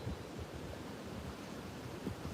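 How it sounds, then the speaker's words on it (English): Wind and rain outdoors give a steady, broad rushing hiss with gusty low buffeting against the microphone, fairly quiet and continuous with no voices. "It's raining out here"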